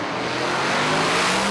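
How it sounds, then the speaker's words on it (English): A drag race car roars at full throttle with a steady loud engine drone, a dense continuous blast that may carry backfire pops. "Oh, flame! Backfire."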